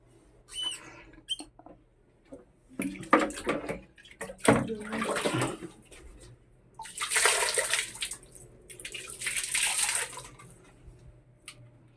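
Neighbours fill a bathtub with running water, a splashing, rushing flow heard in swelling bursts with squeaky tap sounds and thumps, fairly distant and muffled through walls.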